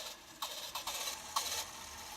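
A Mitsubishi VHS VCR's tape mechanism gives off a few quiet mechanical clicks and soft whirring bursts, close and faint, with no talking.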